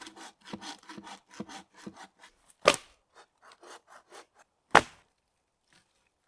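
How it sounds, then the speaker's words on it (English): A hand saw cuts through trees in the woods while building a bushcraft shelter: about eight quick, rhythmic rasping strokes, then two sharp, loud woody knocks with quieter scraping between them, close by. "I'm going to take up my saw and start sawing up some trees."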